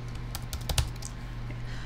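Brief keyboard typing at a computer during R programming work, a few close soft key clicks with one slightly louder tap near the end over a steady low hum.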